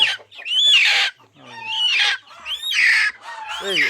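Crested native chickens kept for breeding stock on a farm cluck and squawk in a few loud, close bursts with short pauses between them, and no talk over them.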